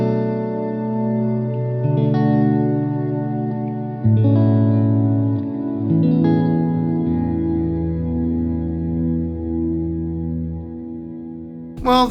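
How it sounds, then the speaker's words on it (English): Electric guitar played through a Walrus Audio Sloer reverb pedal, sustained chords blooming into a dense, washy ambient tail, loud and continuous with layered shimmering overtones and no talking. "That is the Walrus Audio Sloer. This is the latest in these mega reverb pedals"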